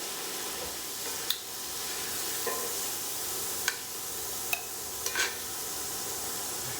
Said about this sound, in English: We're ready to cook onions already.